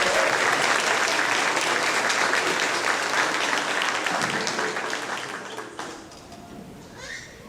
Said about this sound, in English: Let's give them a big round of applause to get ready for our show.